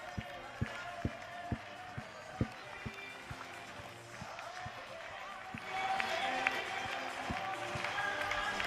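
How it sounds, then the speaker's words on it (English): A crowd at a party event claps along to a song with a steady rhythmic beat of hand claps, moderately distant, under an announcer's voice and music that swells louder in the second half. "Let's get those hands clapping."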